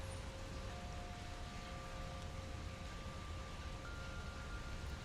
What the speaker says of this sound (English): Maybe noticing some little raindrops overhead.